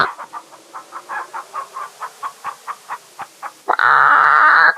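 Chickens cluck in King's Quest III Redux, a steady rhythmic series of about fifteen close clucks, then a louder, harsher squawk that holds for the final second.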